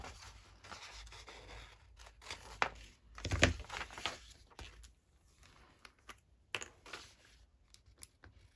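Scissors cutting paper at an angle while making a handmade envelope, quiet scattered snips and rustles close by, with brief pauses between cuts and no voices.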